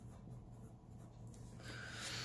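A pen or Sharpie scratches steadily across paper while drawing zendoodle shapes, a close, continuous dry scribbling that grows slightly louder toward the end, with no voices.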